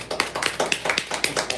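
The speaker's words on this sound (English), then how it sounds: "you guys should give yourselves a little round of applause." A small class claps, only a few pairs of hands giving sharp, distinct slaps in a quick, slightly uneven rhythm, close and fairly light.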